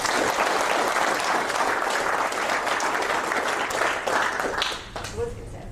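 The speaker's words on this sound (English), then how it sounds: "I was going to say another round of applause for Mike, but you guys were already on top of it" An audience claps loudly and evenly for about four and a half seconds, then the applause fades quickly and the room goes quiet.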